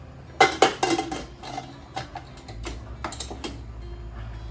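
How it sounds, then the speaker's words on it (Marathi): A pressure cooker lid clanks into place with a few sharp metallic knocks, followed by lighter clicks and rattles as it settles. "चला आता आपण झाकण लावून घेऊ कुकरचं"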